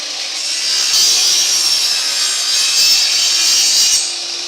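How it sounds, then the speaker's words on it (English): Hand saw making a relief cut in a wooden log siding board, a steady, continuous rasping stroke close up with no talk. "so I'll cut a little off here so I can fit it in to the window itself."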